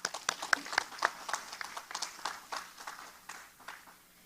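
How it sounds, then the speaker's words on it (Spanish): Scattered audience clapping at a business-centre event in El Poblado, with distinct individual claps rather than a full roar, fairly faint and thinning out over a few seconds. "Un aplauso para todos."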